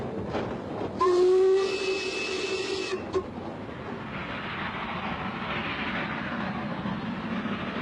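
A loud steam locomotive whistle on the Severn Valley Railway blasts for about two seconds, followed by chuffing and rumbling train noise that continues steadily.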